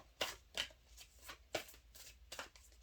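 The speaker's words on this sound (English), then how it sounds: "they are the ones moving around the cards and shuffling the cards" Tarot cards shuffled by hand close by, a handful of quick papery riffles and slaps in an uneven rhythm with soft rustling between them and no voices.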